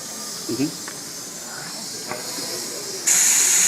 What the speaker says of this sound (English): Now notice how Patrick's holding the airbrush